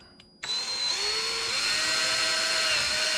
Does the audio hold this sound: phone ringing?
no